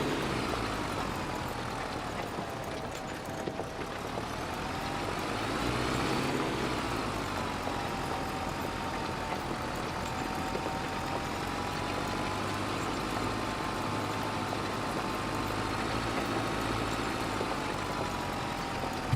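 A tractor engine in a video game drones steadily for the whole stretch, a continuous rumbling motor note whose pitch shifts slightly as it drives, with no talk over it.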